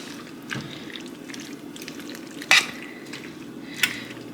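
Cooked pasta is stirred into a bacon cream sauce in a pan, giving soft wet squelches and scrapes with a couple of sharper clinks of the spoon against the pan.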